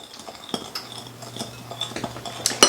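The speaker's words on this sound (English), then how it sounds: "we are going to whisk this together, and I'm just going to use my tablespoon" A tablespoon whisks a spiced pecan coating in a bowl, giving light, irregular clinks and scrapes against the bowl, close up and fairly quiet, with no talking.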